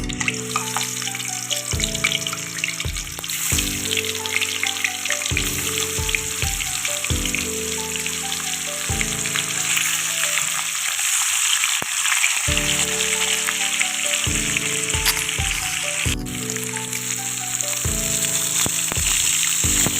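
Fish sizzles in hot oil in a wok, a dense, continuous frying hiss with spattering crackles. A repeating tonal background pattern runs underneath, and the frying stays loud and close throughout.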